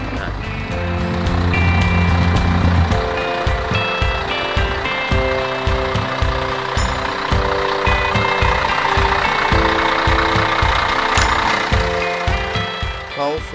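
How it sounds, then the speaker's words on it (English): A Scania K113 bus with Marcopolo bodywork idles with its powerful engine, giving a steady, loud, close mechanical throb with a regular pulsing beat, and a voice talks over it. "Powerful engine, still sounds fantastic."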